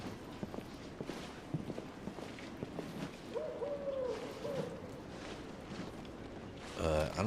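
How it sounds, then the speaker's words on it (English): A soft owl-like hoot rises in the ambient soundscape of the Victorian London video game The Order: 1886, with footsteps and spoken dialogue around it. "I don't think I've ever heard a rooster and an owl on the same."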